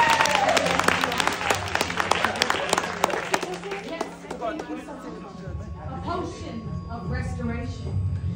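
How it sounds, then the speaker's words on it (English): An audience at a Sleepy Hollow immersive cocktail experience in Atlanta breaks into loud, dense applause and cheering up close, which thins out into scattered claps while people chatter and talk over it. "Round of applause for welcome to the"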